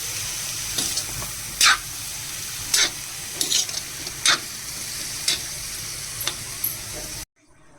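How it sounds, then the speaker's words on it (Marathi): Prawn masala being stirred on a flat tawa, with a steady sizzle of frying under a run of sharp scraping strokes from the spoon at irregular intervals, close and clear, ending abruptly. "चांगलं ढवळायचं"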